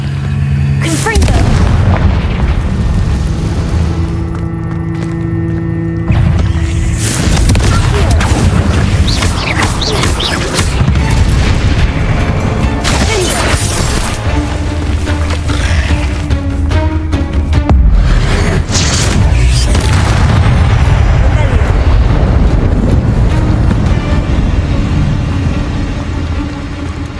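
Confringo spell explosions from Hogwarts Legacy boom loudly and repeatedly amid heavy rumbling combat noise, with a voice briefly heard.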